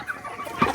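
A chicken gives a single short cluck, close and moderately loud, after a moment of quiet background.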